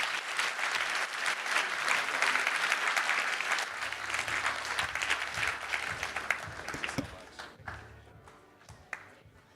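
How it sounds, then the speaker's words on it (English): A conference audience at a wealth-tech event applauds in a dense, sustained burst that gradually thins into scattered claps, heard from within the hall. "Round of applause"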